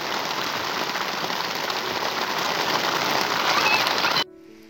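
Steady heavy rain pours onto a jungle campsite in Uttarakhand, drumming on black polythene sheeting stretched overhead, a dense continuous hiss that cuts off abruptly near the end.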